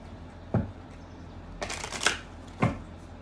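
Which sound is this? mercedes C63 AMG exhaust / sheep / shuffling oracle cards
shuffling oracle cards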